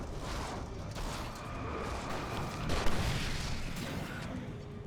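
A flashbang grenade goes off in the video game Alan Wake amid a dense, roaring wash of noise, with a sharper burst swelling near the middle.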